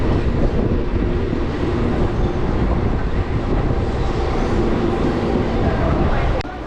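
A Sealdah to Mayapur local train pulls out of Barrackpore station, its steady loud rumble and rattle of wheels on rails filling the air throughout, dropping slightly at the very end.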